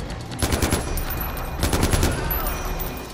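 Bursts of automatic gunfire from a heavy-recoil weapon in Far Cry 4, two loud rapid volleys separated by a short pause, with no talking.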